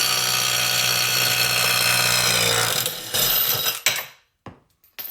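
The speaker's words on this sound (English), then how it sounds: "we'll see how this Harbor Freight Hercules 3/8 inch drive impact" A Harbor Freight Hercules 3/8 inch drive impact wrench hammers loudly and continuously for about three seconds, then stutters in short bursts before cutting off into silence.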